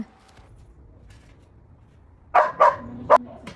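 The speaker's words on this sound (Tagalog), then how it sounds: "Pasensya naman po sa tahol ng aso." After a quiet stretch, a dog barks three or four times in quick succession, sharp and fairly close.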